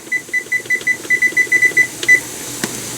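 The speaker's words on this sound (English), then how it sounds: "Set the timer." A kitchen timer beeps in a quick run of a dozen short, even high-pitched beeps, close and loud, then stops, with a faint click afterwards.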